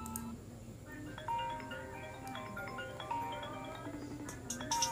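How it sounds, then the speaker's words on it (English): iPhone X ringtone playing from an Android phone's speaker, a faint, bright melodic chime pattern repeating over background room noise. "Here I have some just like iPhone X ringtone or iPhone X remix."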